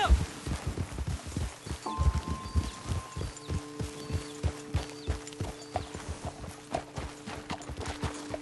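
Horse hooves clop in an even, repeating rhythm in Red Dead Redemption 2, fairly close, with a faint tone and sparse background sound.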